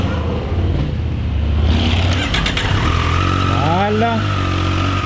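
Small street motorcycle engine starting up and revving a few times nearby, with brief pitch sweeps as the throttle rises and falls over a steady idle, while people talk over it.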